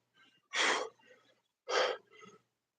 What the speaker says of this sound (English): You sneeze once, you can't stop, man.